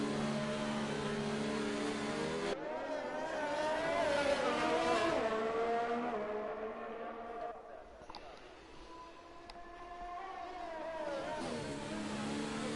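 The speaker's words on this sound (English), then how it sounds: "the first one to go out is Felix in his Williams car" A Williams Formula car pulls away in a VRL sim-racing round at the Italy track, its engine climbing through rising, stepped gear-change tones, with a commentator talking over it throughout.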